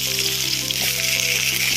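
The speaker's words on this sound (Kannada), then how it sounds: "ಈ ಟೊಮೆಟೊನ ಸ್ವಲ್ಪ ಒಂದು 5 ನಿಮಿಷ ಈ ಟೊಮೆಟೊನ ಇದರಲ್ಲಿ ಫ್ರೈ ಮಾಡ್ಕೋಬೇಕು" Chopped tomatoes fry in coconut oil in a pan with a loud, dense, continuous sizzle that stays even and close for the whole moment.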